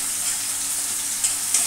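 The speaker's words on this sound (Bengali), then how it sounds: "আর এখানে পোনা মাছগুলো রুই মাছগুলো ভেজে নিচ্ছি" Pieces of rohu fish frying in oil in a pan, a continuous bright hiss and crackle of sizzling at close range, with a couple of louder spitting pops near the end, no talking.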